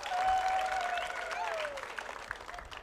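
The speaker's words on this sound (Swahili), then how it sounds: "Tujipigie makofi." A crowd applauds at the commissioning of Mbagathi Hospital's neonatal intensive care unit, a full burst of clapping that swells and then thins out, with a thin sustained whistle-like tone running over it.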